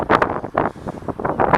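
Sea wind off the Bay of Bengal gusts across a beach at Chilika Lagoon, buffeting the microphone in loud, uneven rushes that rise and fall.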